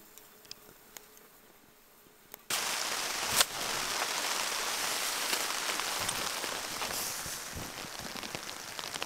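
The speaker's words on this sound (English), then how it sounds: "It's raining again." Rain at a remote wilderness campsite starts abruptly after a quiet stretch, then falls as a steady, dense hiss with scattered heavier drops and no talk.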